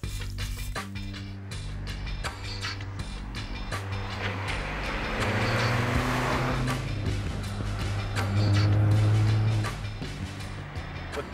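A Mini Cooper's engine drones steadily while driving on the road, rising in pitch as it accelerates twice, with road noise and no talking.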